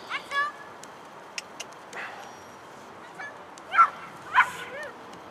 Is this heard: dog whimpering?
yes